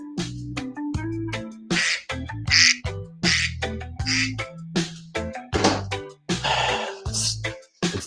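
Duck quacking comes in a long series of loud, close, nasal calls with short gaps between them, filling the whole stretch with no other sound.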